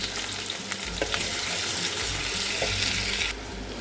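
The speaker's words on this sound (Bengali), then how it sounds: "পেঁয়াজটাকে লাল লাল করে ভেজে নিতে হবে" Finely chopped onions frying in oil with whole garam masala, dried chillies and bay leaves, a loud close sizzle with stirring scrapes that drops off sharply near the end, with no speech.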